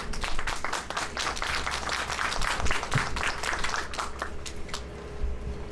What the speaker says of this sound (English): please, a warm round of applause for Congresswoman Judy Chu